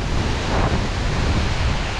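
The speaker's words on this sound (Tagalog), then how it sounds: "Lakas ng hangin." Strong wind roars steadily outdoors among crops and trees, a dense, constant rushing blast close to the microphone with no voices.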